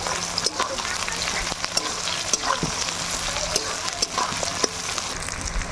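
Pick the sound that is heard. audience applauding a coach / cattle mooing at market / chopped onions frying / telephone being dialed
chopped onions frying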